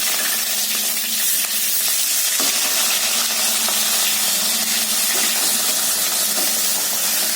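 Foli fish sizzles loudly and continuously in a hot pan of oil, with the frying hiss shifting briefly partway through and no voices over it.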